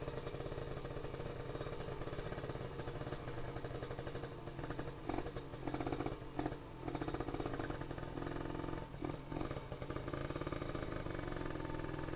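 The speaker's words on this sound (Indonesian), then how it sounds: "dengerin suara motor aja" A motorcycle engine drones steadily throughout while riding, with a buzzy, rattling tone and slight dips and surges, heard up close with no voices.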